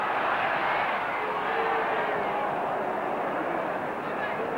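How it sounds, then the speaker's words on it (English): A packed stadium at the 1968-69 Manchester City v Manchester United match sends up a steady, loud roar of booing over a late tackle by Nobby Stiles, a broad wash of many voices that never lets up. "crowd booing for what they thought was a late tackle by Nobby Stiles"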